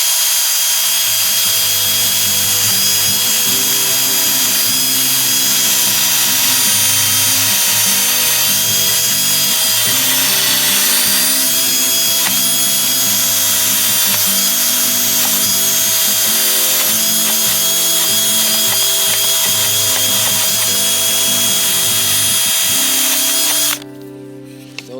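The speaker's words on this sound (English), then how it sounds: "Let's go get the grinder wheel." An angle grinder wheel scours rust off brake hardware at an off-grid spot in the Michigan woods, a loud, continuous, steady whine that runs unbroken for about 24 seconds before cutting off.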